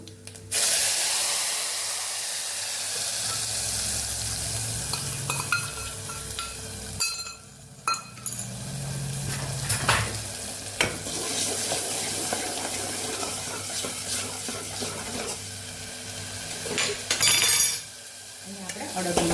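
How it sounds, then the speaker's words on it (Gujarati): A spiced tempering for sour urad dal sizzles and is stirred in a pan, with bursts of hissing, clattering scrapes and watery splashing that rise and fall; a voice is briefly heard. "અહીં આપણે છાશમાં જે મસાલો તૈયાર કરેલો હોય એનો વઘાર કરી લેશું"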